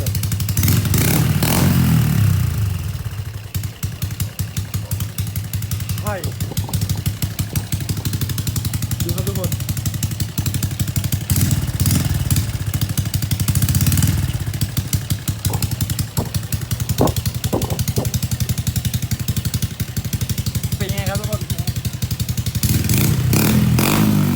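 A motorcycle engine with a new exhaust idles with a loud, rumbling, throaty exhaust note, with occasional revs and clatter, close by, while someone talks at times.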